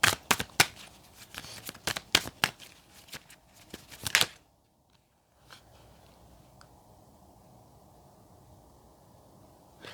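Tarot cards are shuffled in quick, crisp bursts of riffling and slapping for about four seconds, then a short silence gives way to faint handling and soft shuffling at a lower level.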